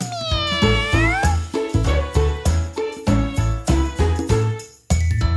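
A sung, melodic meow imitating a cat over bouncy music with a steady beat; the voice glides up and down rather than sounding like a real cat.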